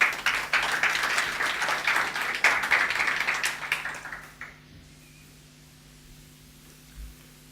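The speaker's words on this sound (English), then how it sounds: "let's have a round of applause for the sponsors" Audience applause at an agile conference talk, fairly dense clapping that fades out after about four seconds into quiet room tone.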